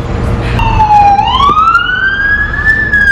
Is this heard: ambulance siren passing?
yes